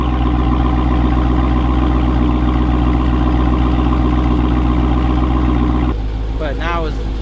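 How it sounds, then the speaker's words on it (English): A 2022 Dodge Charger Hellcat wide body with Corsa Extreme exhaust idles warm, a steady loud rumble throughout; near the end the engine note drops slightly while a voice speaks briefly over it. "But now it's running idling."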